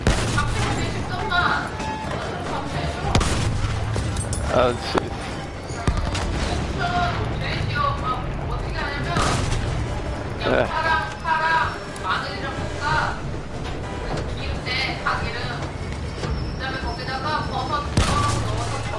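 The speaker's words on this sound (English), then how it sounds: "I shot a guy off a horse. Using a giant train cannon." Giant train cannon and gunfire in Battlefield 1 while aboard the train, with repeated heavy booms and scattered shots in a dense, noisy battle mix and a player talking over it.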